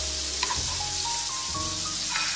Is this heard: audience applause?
no